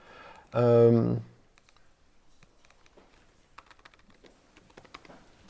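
A voice speaks briefly, then soft, scattered clicks from a malfunctioning computer keyboard follow at a low level, quick irregular taps of typing.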